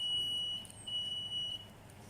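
A steady, high-pitched electronic multimeter continuity beep, set to the x1 range while testing a Bluetooth speaker's switch, sounds continuously for about a second and a half before cutting off.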